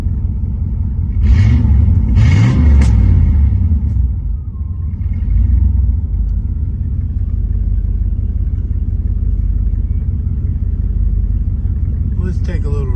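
A 1989 Chevrolet Camaro IROC-Z engine runs with a deep, steady low rumble close by, swelling slightly at times. Brief voices come through over it.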